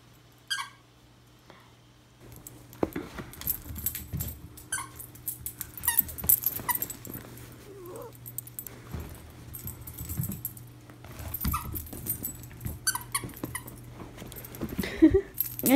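A schnauzer on a bed gives soft, high whimpers and faint licking sounds, scattered and close, with light rustling and jingling between them and no talk.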